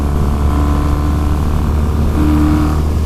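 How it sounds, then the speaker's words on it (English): Custom Triumph T100 cafe racer motorcycle with open pod intake filters cruising at part throttle, a steady, loud exhaust drone with a low rumbling pulse that swells slightly near the end, no talking. "the exhaust note does dramatically get louder."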